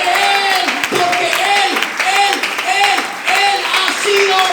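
Church congregation applauding, a dense patter of many hands clapping steadily while a voice speaks over it throughout.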